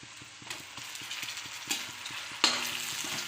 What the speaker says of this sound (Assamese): এতিয়া অলপ লৰাই আছোঁ